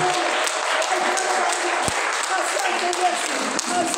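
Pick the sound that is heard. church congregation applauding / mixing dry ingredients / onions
church congregation applauding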